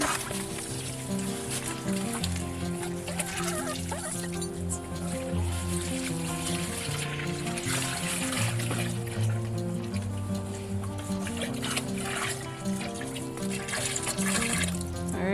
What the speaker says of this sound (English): So I'm just gonna give them a little more water here.